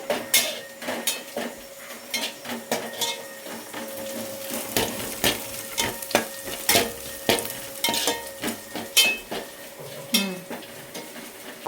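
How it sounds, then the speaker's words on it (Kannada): Garlic frying in a pan until light brown for garlic chilli chicken, with a steady sizzle broken by repeated scraping stirs of a utensil against the pan, close and fairly loud without talk. "ಗಾರ್ಲಿಕ್ ಸ್ವಲ್ಪ ಕಂದು ಬಣ್ಣ ಬರೋವಷ್ಟು ಫ್ರೈ ಮಾಡಿದರೆ ಸಾಕು."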